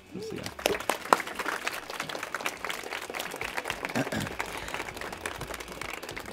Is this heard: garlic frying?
no